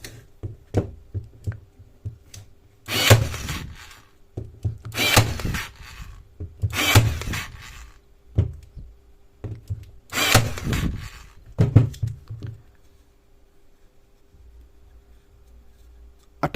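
A Hasston cordless 5-in-1 staple gun drives staples into wood in a series of sharp, loud bursts spaced a second or two apart, with quieter handling clicks between shots and a faint steady hum underneath.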